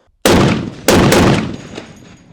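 AK-50 rifle fired as a quick double tap outdoors, two sharp, very loud close reports about half a second apart, each trailing off in a long rolling echo.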